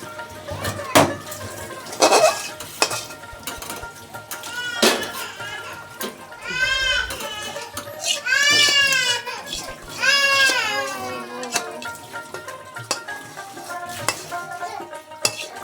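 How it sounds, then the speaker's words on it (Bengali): Metal utensil scraping and clinking against a wok as prawn malai curry is poured into a serving bowl, in short bursts between stretches of someone talking. "আমি এখানে কড়াই থেকে সরাসরি ঢেলে নিচ্ছি"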